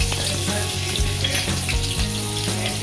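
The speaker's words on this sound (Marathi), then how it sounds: "आता तेल गरम झालंय, फोडणी देत आहोत" Ginger, garlic and asafoetida sizzle steadily in hot oil for a tempering, a close, continuous frying hiss with faint stirring knocks and no voices.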